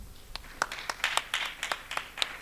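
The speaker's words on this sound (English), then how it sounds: "Please, a round of applause." A small audience at a development planning colloquium claps after a talk, a sparse scattering of distinct hand claps over a couple of seconds, fairly quiet and without cheering.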